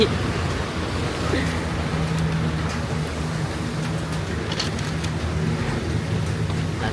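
Steady rain falls over a rural Laos kitchen while vegetables are being cooked, a dense even hiss running the whole time under a low hum, fairly close and continuous without clear separate drops.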